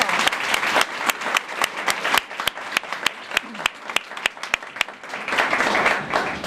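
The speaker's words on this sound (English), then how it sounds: "Let's give him a nice round of applause." An audience applauds at a school music room dedication for Steve Norris: a full round of clapping that thins to sharp, sparse individual claps midway, then swells again into dense applause near the end.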